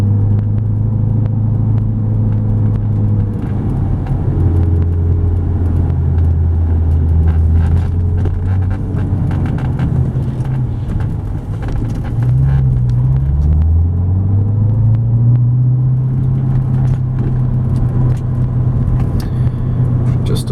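A 2005 Ford Mustang Roush driving on a road, heard from inside the cabin as a loud steady engine rumble and drone with gear changes and pitch sweeps, under continuous talk.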